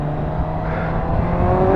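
A Kawasaki Z1000 SX motorcycle accelerates hard to overtake, its engine note rising steadily in pitch under loud wind rush heard from the rider's position, without speech.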